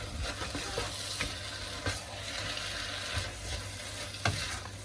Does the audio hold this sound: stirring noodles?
yes